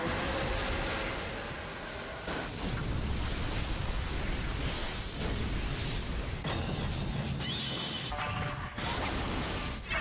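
A dense, roaring anime explosion from Naruto fills the whole stretch with sustained blasting rumble and crackling bursts, swelling in waves with sharp whooshing surges near the end.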